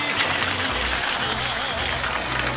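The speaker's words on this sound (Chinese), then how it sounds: "再一次掌声感谢" Studio audience applause at the close of a Chinese televised lecture show, steady dense clapping filling the whole moment without speech.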